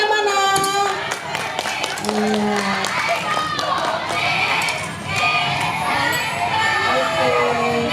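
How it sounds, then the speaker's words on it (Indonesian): A school arts-show audience cheers, shouts and claps together, with children's voices loud throughout and a short spoken reply near the start. "Tepuk tangannya mana?"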